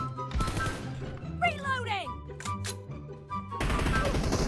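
Rapid automatic gunfire in PUBG Mobile comes in loud bursts at the start and end, separated by a few single shots and a brief sliding whine, while someone talks in the middle.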